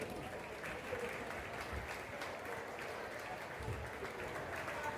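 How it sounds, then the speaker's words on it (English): Applause from a crowd at a high school's 100-year celebration, a steady, fairly distant wash of clapping with murmuring voices underneath, continuing at an even level throughout. "deserves a great round of applause"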